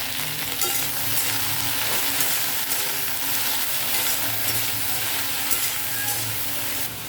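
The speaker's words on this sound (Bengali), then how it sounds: "এবার আমি এর মধ্যে ঢেঁড়সগুলোকে দিয়ে ভেজে নেব।" Okra, salted and dusted with turmeric, fries in hot oil with a loud, continuous close sizzle and hiss that runs unbroken for several seconds, with no voices.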